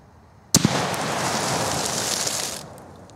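A bolt-action Mauser .308 rifle fires a 150-grain Interlock round into a water jug at 100 yards, giving one sharp, loud crack with a burst of splashing noise that carries on for about two seconds before cutting off.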